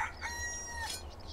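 A single drawn-out rooster crow from the game Medieval Dynasty rings clearly for about a second over a low, steady background hum.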